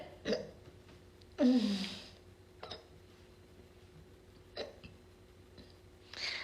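Several sharp hiccups from a woman during a casual TikTok livestream, spaced irregularly with one loud, drawn-out hiccup and fainter ones, close to the mic in a quiet room.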